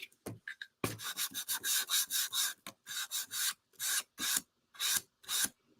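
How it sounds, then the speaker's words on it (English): Sandpaper of 320 grit rubbing over a small craft piece, a run of short, close, rasping strokes in a steady back-and-forth rhythm with brief pauses between them, no voices. "I'm just going to go over this a little bit with sandpaper to just soften it up a little bit"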